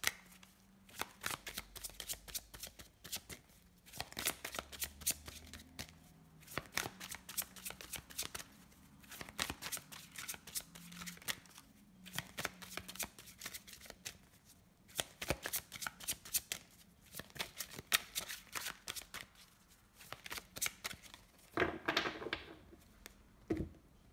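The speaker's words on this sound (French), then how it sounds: "Je vais faire une coupe déjà avec l'oracle coup de cœur." Oracle cards get shuffled and cut in repeated close bursts of crisp riffling and slapping, separated by short pauses, quiet but clear through roughly twenty-four seconds with no voices.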